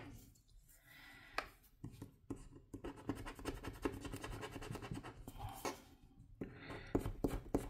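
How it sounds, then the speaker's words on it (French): A scratch card is scratched off with quick, dry rasping strokes, close and quiet, coming in irregular bursts with brief pauses between them. "On va gratter une carte"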